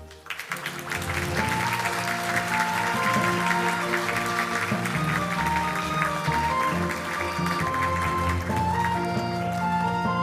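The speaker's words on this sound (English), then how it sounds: "We'll take a photo as we applaud." Applause from a forum audience at an opening ceremony fills the room steadily for about ten seconds during a commemorative group photo, dense and continuous with tonal music or background sound running underneath.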